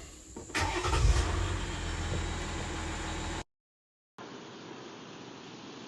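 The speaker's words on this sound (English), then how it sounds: "So I'm gonna go ahead and start the truck up." A Jeep Gladiator truck engine cranks and catches, settling into a loud steady idle roar close by, then cuts out briefly before a quieter continuous hum resumes.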